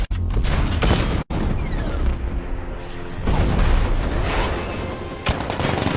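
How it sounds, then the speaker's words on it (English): A 60mm cannon firing in the Batman: Arkham Knight video game, heavy booming blasts and explosive bursts with mechanical clatter, loud and close, with brief abrupt dropouts between shots. "60mm cannon operational."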